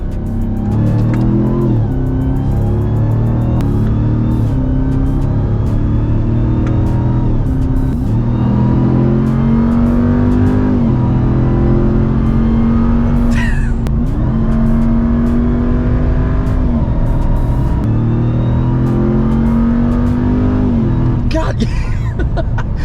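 A Ram TRX pickup's engine revs repeatedly, pitch climbing and dropping in long sweeps, loud and close, with faint voices in the background.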